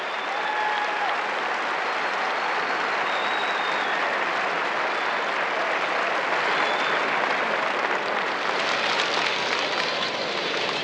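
A large crowd in an arena at a high school Class C basketball final applauds for an award class, producing a dense, continuous wash of clapping that holds steady and slightly swells toward the end.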